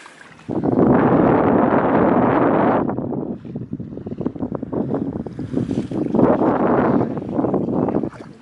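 Strong wind buffets the microphone on the Southend foreshore by a tidal race, a loud steady roar for the first few seconds, then gusty rumbling with surf-like washes continuing throughout.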